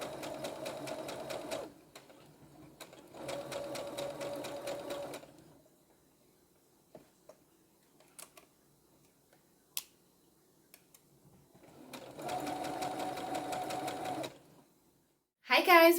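Three bursts of a sewing machine stitching upcycled clothing, each a rapid even mechanical chatter lasting a couple of seconds, separated by quiet gaps with small clicks and handling taps.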